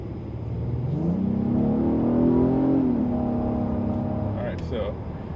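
An Acura TLX A-Spec with a 3.5-liter single overhead cam VTEC engine accelerates on a main road at night in normal mode, the engine note rising smoothly in pitch and loudness before easing off, with someone talking over it.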